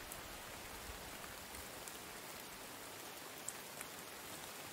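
Rain falls steadily in a video game scene, a constant hissing patter of drops on surfaces at a low, even level with no breaks.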